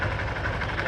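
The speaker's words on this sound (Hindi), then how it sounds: "थोड़ा आवाज़ आ रहा है कट कट कट हो गया" A Yamaha FZ motorcycle engine idles steadily at close range, its low, continuous rumble carrying a faint irregular knocking tap during a clutch kit repair.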